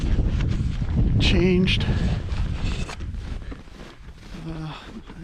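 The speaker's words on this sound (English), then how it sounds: "you can really feel the cold wind now out here on the lake" Cold wind gusting across an open frozen lake while snowshoeing, roaring into the microphone in uneven blasts under a man's speech, with crunching and rustling.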